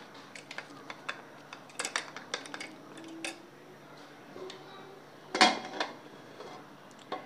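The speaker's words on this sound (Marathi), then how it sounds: "आता आपण हे झाकण खोलून घेऊयात" A lid lifts off a pot of shevga (drumstick) pulao with a sharp metallic clink, set among scattered light kitchen taps and clatter at close range.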